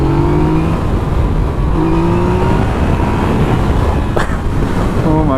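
Yamaha FZ-09 / MT-09 motorcycle ridden on the road, engine pulling hard under steady wind roar, with rising harmonic tones as it revs up through the gears.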